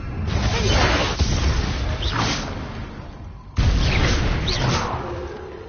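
A Confringo blasting spell cast in a video game produces a whooshing burst and booming blast, then a second loud blast a few seconds later. Both are close and punchy, with no talk over them.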